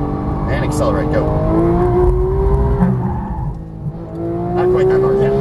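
A Porsche 911 GT3 engine pulls hard on a race track under full throttle, a loud steady drone with a rising pitch held throughout, with faint tyre noise beneath.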